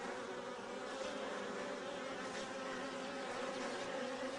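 Honeybee workers buzz steadily and densely at the hive during dandelion bloom, a continuous close swarm drone with no pauses and no voices.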